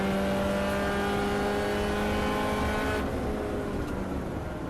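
Race cars in the Birkett relay race, a Club Racing UK event, drone loudly and steadily with engine harmonics, with no speech, the tone shifting slightly partway through as the cars pass.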